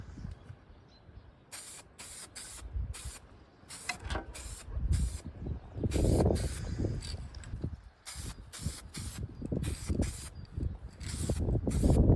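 Primer is sprayed from a can onto a backhoe attachment part in a run of short hissing bursts separated by pauses, with handling noises between them and no talk.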